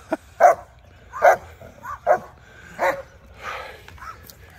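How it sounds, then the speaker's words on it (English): A small dog barks in a series of about five sharp yaps spaced roughly a second apart, close and loud, ending in softer whimpering yips. "Vicious attack dog."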